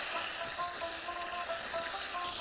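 Pointed gourds (potol) fry in plenty of hot oil, giving a steady, loud, hissing sizzle with faint crackles and no voices.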